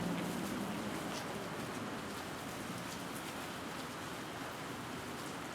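Steady rain falling outdoors, a dense even hiss of drops on surfaces that holds constant and fairly close throughout, with no voices over it.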